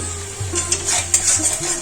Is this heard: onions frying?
yes